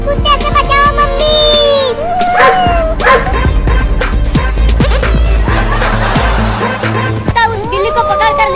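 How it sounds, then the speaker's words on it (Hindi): A dog yips and barks in loud, repeated bursts, mixed with whimpers, over shouting voices and dramatic background music. "मुझे इस कुत्ते से बचाओ मम्मी।"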